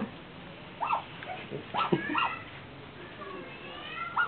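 An otter whines in short high-pitched squeaks and whimpers, faint and intermittent against a quiet background.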